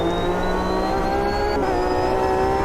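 A race car engine in the sim racing game Automobilista 2 revs steadily at high pitch, a loud, continuous harmonic whine that climbs smoothly and evenly throughout.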